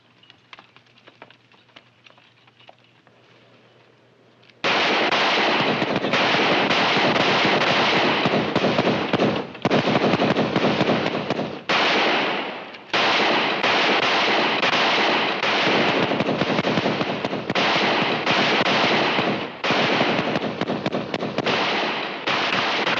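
Soldiers' guns fire in a western TV episode, Cheyenne, in a battle charge. After a few quiet seconds, loud dense volleys of shots burst out and keep going in rapid, near-continuous clusters with short gaps.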